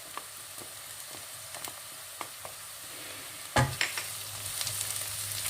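Onions frying in a pan with spices and garlic powder being added, a steady soft sizzle broken by a few scrapes and a louder burst of sizzling near the end.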